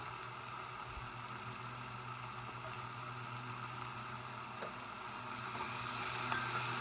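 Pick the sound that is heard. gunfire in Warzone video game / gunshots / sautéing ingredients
sautéing ingredients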